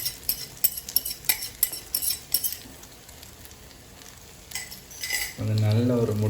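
An egg fries in hot oil with small onions, Jaffna style, as quick metal clinks and scrapes of a utensil against the pan come first, then a louder sizzle rises over the last second.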